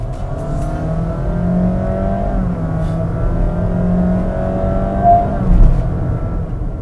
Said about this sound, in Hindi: ऐसा लग रहा है ना कि गाड़ी गियर शिफ्ट कर रही है